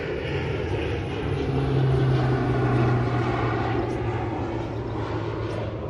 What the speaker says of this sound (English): we got a big airplane going over